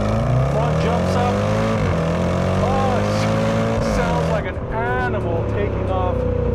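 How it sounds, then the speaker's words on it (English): Range Rover Sport SVR pulling away hard from a stop, a loud rising engine roar with a faint supercharger whine layered over it, heard from inside the car under a voice. "Animal taking off, and you get a slight hint of a supercharger whine"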